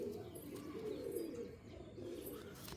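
Pigeons coo in repeated low, throaty rolling phrases, close and steady, with faint chirps above; the birds are Mundi sada female pigeons offered for sale, heard alone without talk.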